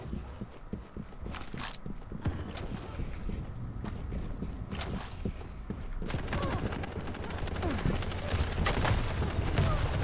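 Gunfire in the arena shooter Quake Champions, with rapid repeated shots and impacts that grow denser and louder toward the end, over constant game background noise.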